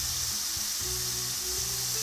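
Boneless chicken frying in a pan, a dense steady sizzle heard close, with a low kitchen hum beneath.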